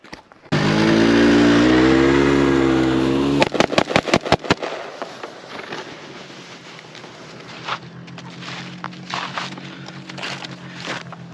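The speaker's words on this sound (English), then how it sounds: "this is a semi-automatic rifle, and I am using 20-round magazines" A semi-automatic rifle with 20-round magazines fired at a charging-bear target: a loud steady drone gives way to about eight sharp shots in fast succession, then quieter rustling.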